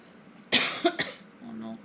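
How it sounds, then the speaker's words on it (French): One harsh cough bursts out close by, followed by a couple of shorter hacks, with a voice murmuring faintly afterward. "Oh non, je vais tousser."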